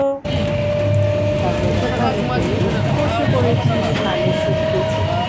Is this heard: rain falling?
no